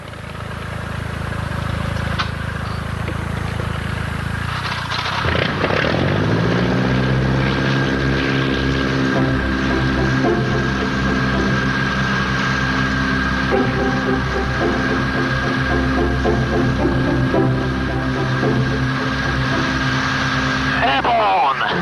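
A propeller aircraft engine runs steadily, then surges to full power around the midpoint as it takes off, its droning harmonics rising and holding loud and close.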